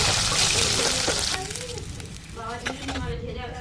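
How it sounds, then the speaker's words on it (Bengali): Pieces of catla fish fry in hot oil, giving a loud, dense sizzle at first that drops to a softer crackle while a voice talks over the later part. "তেলটা গরম হয়ে গেলে আমি মাছগুলো একে একে ছেড়ে দেবো। মাছগুলো এপিট ওপিট করে লাল লাল করে ভেজে নেব।"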